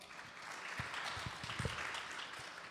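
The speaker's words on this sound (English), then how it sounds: "Please give them a round of applause." Audience applause at a Friday night satsangh birthday celebration, a steady patter of many hands clapping at moderate distance, with a few louder individual claps standing out.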